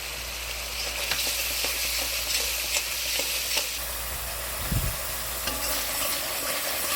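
Grated coconut is stirred into bitter gourd and pointed gourd frying in a pan, with a constant sizzle broken by repeated scraping and clacking of the spatula, one heavier scrape midway.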